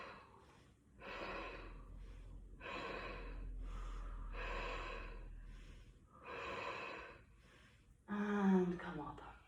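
Deep breaths drawn and released during a yoga pose, coming in five steady rounds of long, airy inhales and exhales, close and fairly quiet, with a short voiced sound at the end.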